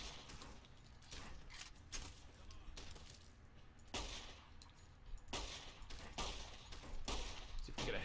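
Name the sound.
gunfire from the video game Fallout: New Vegas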